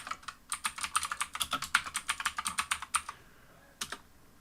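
A computer keyboard is typed on rapidly while entering a password, a close run of crisp, evenly spaced key clicks that stops briefly before two final taps.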